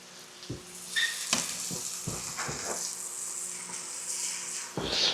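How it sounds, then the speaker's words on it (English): General Tso's chicken sauce bubbles and sizzles in a pan with vegetables, a steady close frying hiss broken by soft popping bursts and a few stirring scrapes throughout. "You see how it's bubbling that sauce in there like that?"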